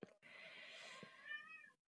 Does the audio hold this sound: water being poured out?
no